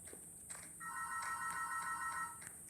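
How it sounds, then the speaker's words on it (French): A telephone ringtone chirps in a repeating electronic pattern of bright tones, fairly faint and steady for a couple of seconds against a quiet background. "désolé pour le bruitage du téléphone"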